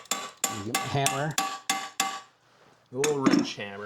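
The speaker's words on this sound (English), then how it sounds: "A little wrench hammer." A small wrench hammer strikes metal close up, about seven sharp, ringing knocks at an uneven pace, followed by a short pause and a final louder clank.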